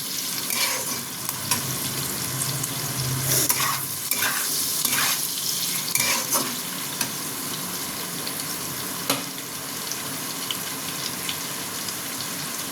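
Ingredients for a mixed non-veg polao lightly frying in a pan, a steady close sizzle with scraping stirs and occasional utensil knocks throughout.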